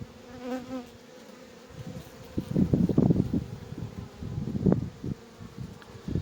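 Honeybees swarm and buzz around an open hive while a colony is being split and the queen released, a dense close droning hum that swells and fades with passing bees, joined by light rustling handling noises.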